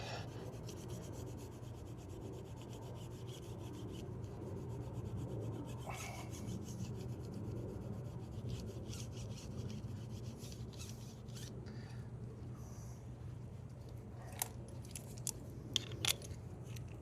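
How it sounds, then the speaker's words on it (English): Quiet, steady rubbing and rasping of a scuff pad on a machined wheel rim being repaired for curb rash, with a few sharper clicks near the end. "We'll take the scuff pad to it."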